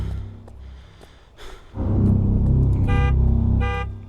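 In the dinosaur video game Tempus Triad demo, a car horn sounds two short, bright blasts over a heavy engine rumble, following quieter scattered clicks and knocks.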